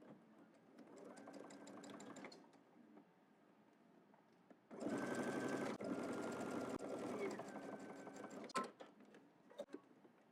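A sewing machine edge stitches close to the seam on the facing side of a double-breasted jacket, running in two bursts with a quieter pause between, the second burst louder and steadier, ending with a few sharp clicks.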